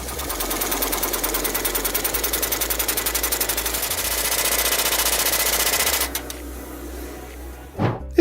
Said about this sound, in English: large diameter steel rivets are heated to about 2012 degrees Fahrenheit, and due to the thermal deformation, the rivets are compressed with greater force than in cold riveting